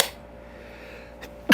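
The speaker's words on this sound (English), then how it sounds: "That was a sneeze." A single sneeze bursts out loud at the very end after near silence, with a faint short sound just before it, in a room during a tabletop Battletech Alpha Strike game session.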